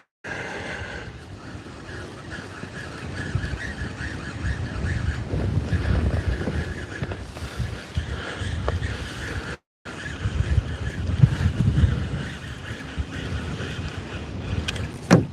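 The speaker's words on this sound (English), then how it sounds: "That wind is pushing good again." Wind buffets the microphone continuously out on the water during kayak fishing in northern Wisconsin, a loud, rumbling gusty roar that swells and drops, with one brief cut-out partway through.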